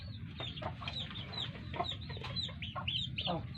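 Chickens cluck repeatedly in short, uneven bursts from a rural farm setting, several birds close by over a low steady background hum.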